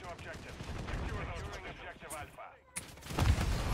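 Gunfire and combat noise from a Call of Duty match rattle through a busy mix, with voices in the game partly buried beneath the shots and a heavy burst at the end.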